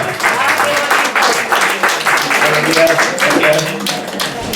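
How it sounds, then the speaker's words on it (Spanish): At a poetry recital in a residential care centre in El Puig, Valencia, an audience claps for reciter Ladislao Navalón, a loud, close burst of many hands, with voices talking over it. "le pido un fuerte aplauso para Ladislao Navalón"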